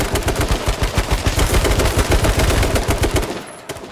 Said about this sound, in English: That's an AK blast. Straight hip fire.